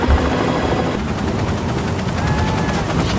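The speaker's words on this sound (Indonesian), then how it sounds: "Dipimpin oleh Carter sang pilot helikopter, Kate dan kawan-kawan pun langsung meluncur ke Antartika saat itu juga." A pilot's helicopter flying toward Antarctica, its engine and rotor roar loud and steady throughout three seconds, a dense continuous wash of noise with a faint rhythmic chop and no talking.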